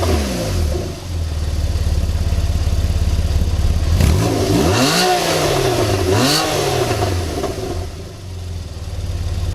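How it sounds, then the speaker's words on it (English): A Porsche 911 Targa 4S flat-six fires up with a loud starter burst, then blips its revs twice in sharp rising and falling sweeps before settling to a steady idle, heard up close with no talking. "The last thing I want to mention is starting up this car."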